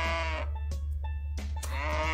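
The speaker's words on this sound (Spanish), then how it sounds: "It's a cow." A cow gives two drawn-out, tonal calls separated by a short gap, both close and clear against a steady low hum, with no talk.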